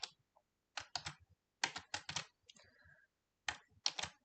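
Bursts of clicky typing on a computer keyboard, several quick clusters of keystrokes with short pauses between them, close and fairly quiet.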